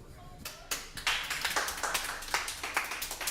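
Audience clapping at a live comedy show, a scattered burst of hand claps that builds into a steady patter of sharp claps from a small crowd, fairly close and without talk.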